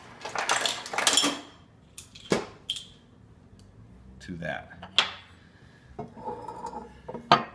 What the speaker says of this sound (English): we're going to add about 3 or 4 ice cubes